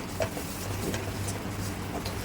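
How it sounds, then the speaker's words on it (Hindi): Semolina roasting in ghee in a pan, stirred with a spoon: a dense continuous sizzle with soft rhythmic scraping, close up and without voices. "इसकी अच्छे से थोड़ी भुनाई करेंगे घी के साथ में"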